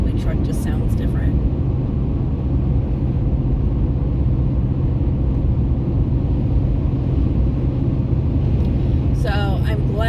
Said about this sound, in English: My truck just sounds different.